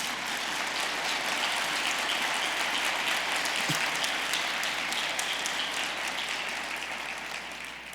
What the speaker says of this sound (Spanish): ¿Le puede dar un aplauso al Rey de Reyes?